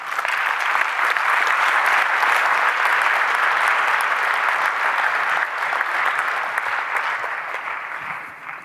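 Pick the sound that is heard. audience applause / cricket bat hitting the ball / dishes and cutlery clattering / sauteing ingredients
audience applause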